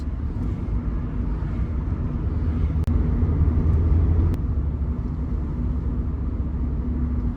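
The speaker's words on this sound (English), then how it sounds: "Ooh, Lamborghini Huracan coming by." A Lamborghini Huracan passes by, heard as a steady low engine rumble from inside a 2020 Mazda MX-5 Club, swelling briefly in the middle before settling back to a constant drone, with no talking.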